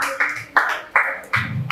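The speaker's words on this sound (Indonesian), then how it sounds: "Tepuk tangan untuk kakaknya" At an event about social media and Aceh's oral traditions, an audience claps for a participant in four evenly spaced, rhythmic claps that ring briefly in the room.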